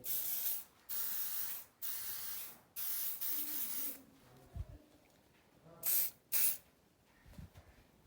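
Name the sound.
room spray being sprayed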